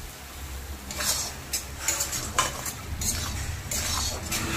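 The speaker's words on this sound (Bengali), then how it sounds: "ভালো করে একটু নেড়ে দেব।" Spices with chili powder being stirred in a pan while cooking Rui fish kalia: irregular scraping and rustling strokes of a spoon against the pan over a low sizzle, close up, with no talking.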